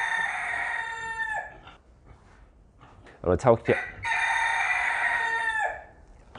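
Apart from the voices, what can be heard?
rooster crowing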